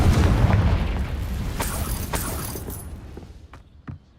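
A Confringo fire spell in Hogwarts Legacy bursts with a heavy, rumbling boom that rolls off over several seconds, followed by a few sharp crackling pops near the end.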